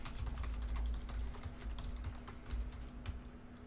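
Quick, light clicking of keys on a computer keyboard, an irregular run of soft taps over a low hum, faint and close.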